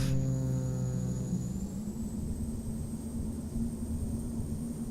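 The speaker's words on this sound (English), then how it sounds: "Little wobbly there. And a good firm landing." A Cessna 208B Caravan touches down in a flight simulator, its turboprop giving a steady, close droning hum with a faint high whine, no voices.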